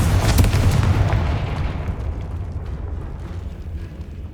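The Confringo fire spell blast in Hogwarts Legacy erupts as a loud, booming explosion up front, then a rumbling fiery roar that slowly fades over several seconds, with no talking.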